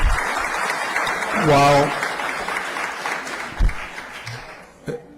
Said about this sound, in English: there was clapping that was allowed tonight